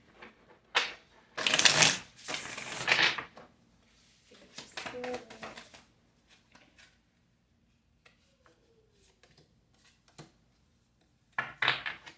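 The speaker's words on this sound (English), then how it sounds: "Alright, this will be our last shuffle." Tarot cards are shuffled in several crisp riffling bursts, the first loudest, followed by scattered soft taps and another riffle at the end.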